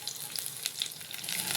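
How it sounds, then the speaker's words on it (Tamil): Chopped garlic and green chilies frying in hot oil after mustard seeds, urad dal and curry leaves, giving a soft close sizzle with small crackling pops throughout. "எல்லாம் சேர்த்து வதக்கிக்கலாம்"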